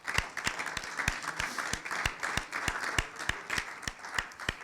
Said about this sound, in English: So I'd like to give all of our sponsors a round of applause.